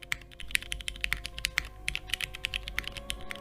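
Quick, quiet keystrokes patter on a plateless, gasket-mounted Geonworks mechanical keyboard, a close, uneven run of light clacks and taps.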